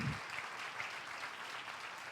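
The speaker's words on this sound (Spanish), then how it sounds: "Denle un aplauso al Señor" A church congregation applauds during a Spanish-language sermon, a steady wash of clapping, moderately faint and alone, with no talk over it.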